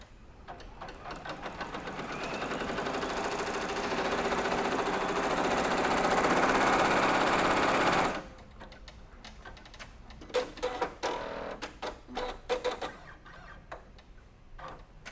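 A free-arm embroidery machine stitches a design with a fast, rapid mechanical chatter that builds and holds for several seconds, then stops abruptly and gives way to scattered short bursts and clicks.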